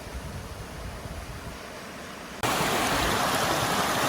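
A waterfall and a flowing stream on rural land near Paw Paw, West Virginia give a steady broadband rush that jumps abruptly louder partway through, as if the listener steps closer to the falling water.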